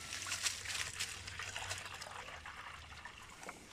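Water being poured to fill a container outdoors on a coffee farm in Paraiso de Osorio, a faint continuous splashing trickle with a low hum beneath, steady throughout.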